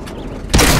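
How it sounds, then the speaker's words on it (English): A tank fires a HEAT round in the console version of World of Tanks: a quiet lull, then a sudden loud boom that bursts in and rolls on to the end. "He is throwing his heat rounds."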